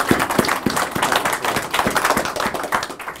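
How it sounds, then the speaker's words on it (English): An audience at a city justice center dedication ceremony applauds, steady brisk clapping from a modest crowd, close and continuous without talk. "Let's give them a round of applause."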